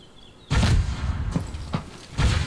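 Gunfire from units in a video game comes as a few sharp, booming bursts in quick succession, close and punchy, separated by brief gaps.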